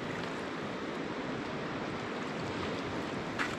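River water rushing steadily nearby while water is collected, a continuous broad wash of flow with no break and one small splash near the end.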